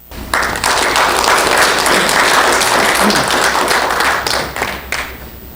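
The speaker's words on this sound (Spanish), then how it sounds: "Lo recibimos con un fuerte aplauso." A lecture hall audience breaks into strong, steady applause to welcome an emeritus academic of a national academy of medicine. Dense clapping holds loudly for several seconds before thinning out at the end.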